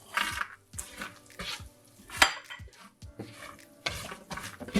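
Nuts frying in butter and fresh caramel in a pan, with a spoon or spatula scraping and knocking against the metal in irregular bursts, close and moderately loud, over a faint background sizzle.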